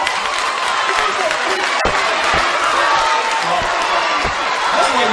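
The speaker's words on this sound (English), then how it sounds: "What are you applauding?" A large audience claps and cheers at a live speaking event, a steady wash of applause and crowd noise throughout, close and fairly loud, with voices mixed in.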